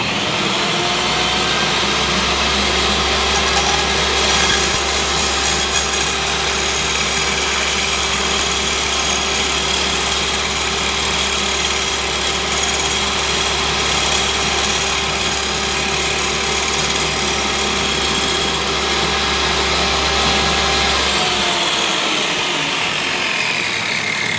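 A power drill spins a wooden dowel against a table saw to round it, a loud, steady whining motor roar with a strong low hum that runs continuously and then cuts off near the end.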